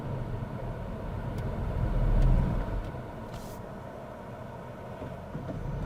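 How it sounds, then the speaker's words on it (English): A manual car's engine rumbles low as the revs sink below tick-over while it stops on a quiet road, the clutch pressed a bit late. A deep, steady drone swells briefly in the middle, then settles without stalling. "It wasn't so late that the car stalled, but it had started rumbling as the revs dropped below tick over"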